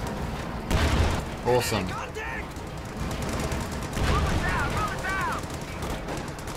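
Game gunfire and explosive bursts crackle through a World War II battle scene in Company of Heroes 2, with broadband shot transients early on and someone talking over the combat noise.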